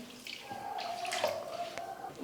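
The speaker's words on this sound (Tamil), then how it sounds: "தண்ணி 1 கப் சேர்த்துக்கோங்க" Water poured from a cup into a kadai of sugar for jalebi syrup, a faint steady trickling splash lasting a couple of seconds, heard alone.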